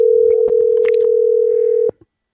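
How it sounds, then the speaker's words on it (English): Telephone tones with a steady dial tone running unbroken for nearly two seconds. Several short dialing beeps sound over it before it cuts off into silence. "I apologize for Ray's poor dialing."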